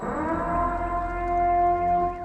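The Purge emergency broadcast warning sirens sound alone, their layered droning, wailing tones sweeping slowly up and down in an eerie, sustained warning.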